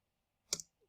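A single keyboard key press, the Enter key struck after pasting commands into a command line prompt, gives one short, crisp click with a faint second tick after it in a quiet room.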